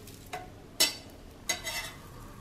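A dosa cooks on a hot griddle. Faint scraping and sizzling come in a few short bursts as it is lifted from the corner and flipped, and there is no talking.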